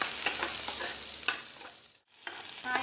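Carrot, beetroot and peas stirred in a frying pan: a steady close sizzle with spoon scrapes, one brief pause near the end before the frying resumes; no voices.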